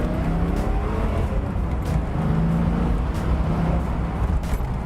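1989 Ford Mustang 5.0 with a five-speed manual, driven and turning sporty, its engine a steady close drone throughout, with faint tire noise as it corners.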